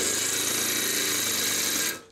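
A power drill drives a screw into a steel stud, a loud continuous whirring buzz lasting about two seconds before stopping abruptly.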